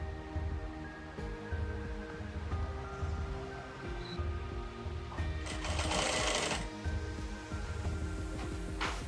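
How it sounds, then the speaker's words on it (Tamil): A sewing machine runs close by, stitching a skirt seam in a steady rapid whir, pausing briefly and restarting, with a burst of rustling fabric partway through. "கரெக்டாக அப்படியே ஓரமாக தையல் ஓட்டிட்டு வந்துடணும்."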